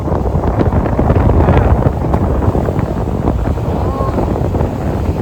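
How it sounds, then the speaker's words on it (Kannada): Strong wind roars across the microphone at a Kerala beach, with waves rolling in underneath; the noise stays loud and constant throughout. "ಗಾಳಿ ಜಾಸ್ತಿ ಆಗ್ತಾ ಆಗ್ತಾ ಅಲೆಗಳು ಜಾಸ್ತಿ ಆಗ್ತಿದೆ"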